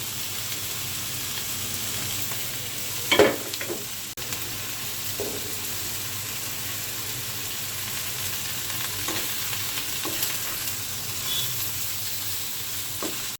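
Chicken fries in a pan with chili, coriander, black pepper, crushed garlic, cumin and ginger, a steady close sizzle with occasional spoon stirs and one sharp knock against the pan early on.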